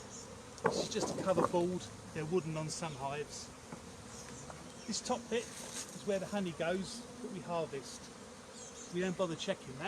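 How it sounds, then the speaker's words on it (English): Honey bees drone steadily around an open wooden beehive while someone talks close by over the continuous buzzing. "The noise you can hear is actually the bees' wings flapping."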